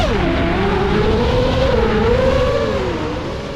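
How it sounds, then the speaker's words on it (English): Toroidal Foxeer propellers on an FPV freestyle drone in steady cruise, caught on a GoPro: a loud continuous motor whine with a gently wavering pitch throughout, no voices. "Here's some cruise audio of the toroidal props on the GoPro."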